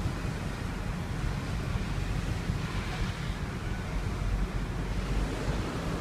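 Clear snowmelt river in Kashmir, India, rushing steadily with a dense, constant roar of flowing water that stays loud and unbroken throughout.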